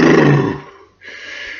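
A voice imitates a wolf huffing during a bedtime telling of the three little pigs: a loud, breathy roaring exhale that fades out, followed by a quieter sustained hiss.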